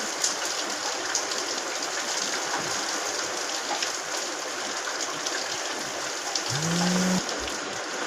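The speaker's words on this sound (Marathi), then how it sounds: "थोडा असा साऊंडमध्ये थोडा पाण्याचा वगैरे बाहेर पाऊस पडतो जोरात" Heavy rain pours steadily outside during a rainstorm, a dense roaring wash, with a short low hum rising near the end.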